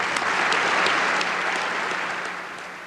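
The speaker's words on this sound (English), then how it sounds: "Despite the polite applause of the assembled ambassadors" Polite applause from assembled UN ambassadors at a 1997 reform session, a steady patter of many hands clapping that gently fades toward the end.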